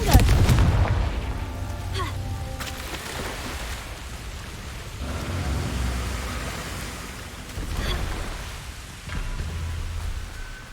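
A Confringo fire spell explodes in Hogwarts Legacy, a heavy booming blast at the start that rumbles away, followed by further low thuds and crackling bursts.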